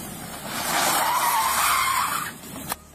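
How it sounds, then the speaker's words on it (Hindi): A grey 2023 Hyundai i20 Sportz IVT driven at high speed, with a loud sustained whooshing roar and a tyre-squeal-like whine that swells and holds for about two seconds before easing off, followed by a short sharp knock near the end. "let's move the vehicle at high speed"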